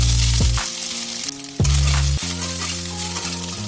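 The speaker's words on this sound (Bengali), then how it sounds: "এবার এই তেলের মধ্যে আমি সয়াবিনটা হালকা করে ফ্রাই করে নেব।" Soybean chunks frying lightly in a little oil in a wok, a loud close sizzle broken by a couple of stirring scrapes and an undertone of steady hum.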